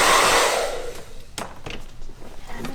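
A hair dryer blasts cut hair off a boy during a mohawk haircut, a loud close whoosh that fades after about a second, followed by quieter rustling and handling noises.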